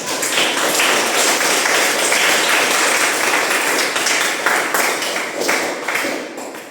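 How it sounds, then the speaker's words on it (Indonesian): A classroom of students clapping together, steady, dense and fairly loud throughout, tapering slightly near the end. "mari kita tepuk tangan"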